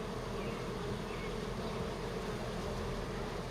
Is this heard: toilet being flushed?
no